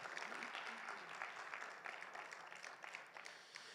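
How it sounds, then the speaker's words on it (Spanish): A church congregation claps for the Lord during a Spanish-language Bible class, producing a moderate, fairly distant wash of scattered hand claps that holds steady throughout, with no voices on top. "¿Cuánto dan un fuerte aplauso al Señor?"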